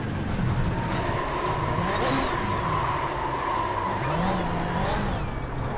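An iRacing rally car engine drones steadily with rising and falling revs, its motion uneven and hopping from wheel damage, loud and continuous throughout.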